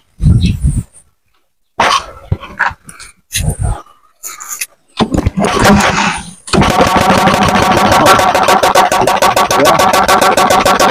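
A cheap open-pipe-style exhaust noisemaker, sold for New Year celebrations, blares loudly and continuously with a harsh buzzing drone after several short bursts and pauses.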